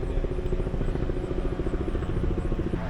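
A news helicopter flies overhead in an outdoor neighbourhood, a steady rhythmic rotor thump with a droning engine hum, fairly loud and continuous.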